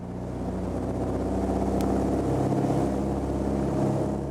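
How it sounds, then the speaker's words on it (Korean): A loud biplane propeller engine drones steadily up close, its pitch rising slightly as it revs for takeoff, filling the whole clip without any talking. "엔진 속도가 갑자기 올라가는 소리가 들리시죠?"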